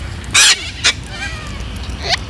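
A pet bird gives a few short, bright calls: a loud burst early, a brief second chirp, then a fainter call near the end, close by over a quiet room.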